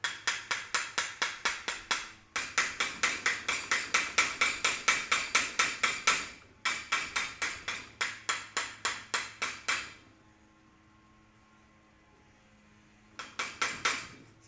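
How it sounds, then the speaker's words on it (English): A hand hammer chips slag off an arc (SMAW) weld on 5/8-inch steel plate, striking in fast, sharp metallic bursts of rapid taps with brief pauses, going quiet for a few seconds before a final short flurry. "the plan would be to chip off the slag, see what it looks like"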